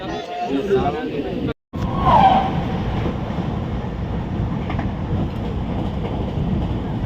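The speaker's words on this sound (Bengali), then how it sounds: "আসানসোল জংশন এসছে" A passenger train arriving at Asansol Junction, heard from inside a carriage as a steady, loud rumble and rattle, with a murmur of voices from people aboard.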